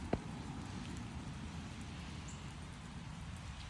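Steady rain falls on a rural property on a wet morning, a soft, even hiss with no pauses, faint and continuous, with one brief tap near the start.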